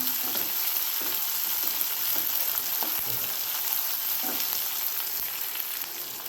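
Sliced onion sautéed with chana dal and urad dal in hot oil for beetroot poriyal sizzles and crackles steadily and loudly up close, with faint stirring scrapes and no talk.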